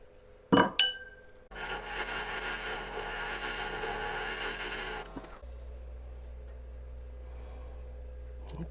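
A carbide cutter carves into hard maple while shaping a herb stripper pot, with a couple of sharp knocks before a loud, steady, gritty grinding that runs for about four seconds and then gives way to a low, even hum.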